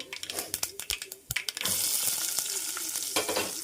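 Onion, garlic and curry leaves drop into hot oil, with a few sharp spattering pops giving way to a dense, continuous sizzle that stays close and fairly loud to the end.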